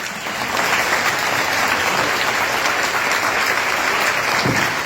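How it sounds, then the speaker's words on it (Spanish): Steady, dense applause from a conference audience for the Fénix 4 team at an international ufology congress, sustained at an even level through the whole stretch with no voices over it. "Fuerte el aplauso para todo el equipo de Fénix 4"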